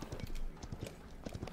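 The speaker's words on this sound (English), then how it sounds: "Fucking galloping." A horse gallops in the hero shooter game Paladins, steady rhythmic hoof clip-clops thudding close and fairly loud throughout.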